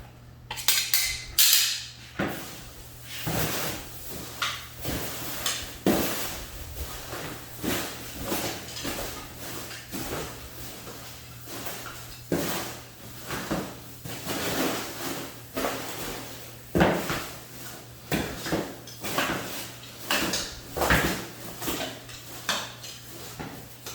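Seed starting mix and perlite get stirred by hand in a plastic tub, producing a long series of close rustling scrapes and hollow knocks against the tub walls in an irregular rhythm, no talking.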